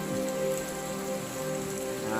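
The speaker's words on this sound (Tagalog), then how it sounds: "ang lakas ng ulan dito sa aming lugar" Heavy rain pours continuously on a bonsai garden, a dense, even hiss of water hitting surfaces close by, with no voices.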